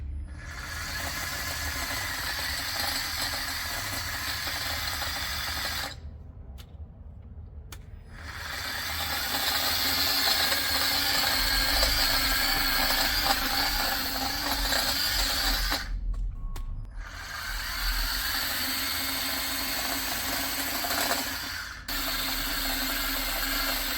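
Ryobi 18V cordless garden cultivator with sharp blades running in steady loud bursts of whirring and rattling, stopping briefly twice before starting again, with no talking.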